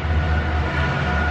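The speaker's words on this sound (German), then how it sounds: "Das war der Zug. Ich wohne nämlich an den Gleisen." A train passes on nearby tracks and is heard through open windows as a steady, loud rumble and rattle with no voices.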